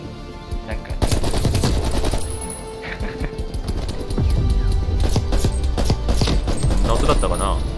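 Bursts of AK-47 fire in Call of Duty: Black Ops Cold War, loud rapid volleys broken by short pauses, with other game effects and occasional talk over the action.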